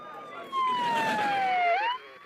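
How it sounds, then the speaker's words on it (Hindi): A siren wails in one long steady tone that slowly falls, then briefly bends upward before cutting off, loud and close with nothing else heard. "सायरन बज रहा है"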